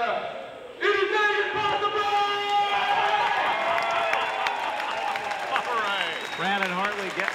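A crowd cheers and applauds at a 2008 IBL basketball championship celebration as confetti falls on the floor, a sustained roar with whoops, under an excited announcer's voice.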